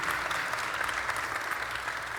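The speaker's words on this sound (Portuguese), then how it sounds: "Salve de palmas, então" An audience breaks into sustained, dense applause at the close of a university lecture on the life of Socrates. The clapping stays steady and fairly loud throughout, with no speech over it.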